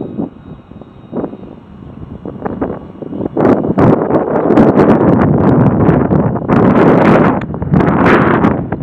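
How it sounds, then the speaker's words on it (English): Strong, steady wind buffets the microphone outdoors while a model plane flies, with loud gusty rushing that grows heavier midway and a faint motor whine beneath. "A lot of wind"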